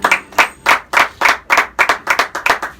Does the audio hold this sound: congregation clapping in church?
yes